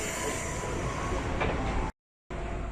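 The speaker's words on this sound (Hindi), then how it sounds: "मैं अभी ट्रेन में हूँ और टैंगरैंग जा रही है" Steady rumbling hum and rattle heard from inside a clean commuter train bound for Tangerang, Indonesia, a constant close wash of motion noise that drops out briefly before resuming.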